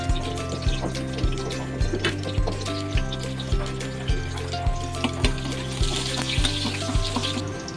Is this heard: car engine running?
no